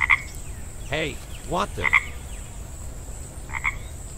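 A small cartoon frog croaks in short, bubbly bursts, with higher chirping calls between them, while a voice speaks briefly in surprise.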